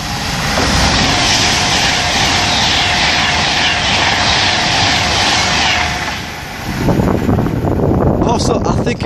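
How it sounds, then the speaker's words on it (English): A Virgin Trains Pendolino bound for Liverpool Lime Street roars past at Acton Bridge, a loud sustained rush of wheels and air with wind buffeting the microphone, easing briefly before another burst of noise near the end. "passing through now, Virgin Trains pendling to Liverpool Lime Street"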